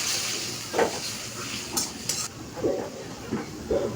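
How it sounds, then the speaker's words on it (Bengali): A cumin paste and salt spice mix is stirred and fried in a pan, soft sizzling broken by intermittent scrapes and clinks of the spoon against the metal, close by with no voices. "এবার এটাকে ভালোভাবে নেড়ে চেড়ে মশলাটাকে কষিয়ে নিতে হবে"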